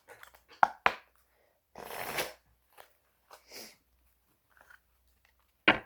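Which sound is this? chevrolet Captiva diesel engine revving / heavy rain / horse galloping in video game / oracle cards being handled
oracle cards being handled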